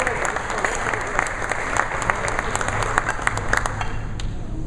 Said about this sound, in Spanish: me gustaría que le diéramos un fuerte aplauso a Daniel Chavarrí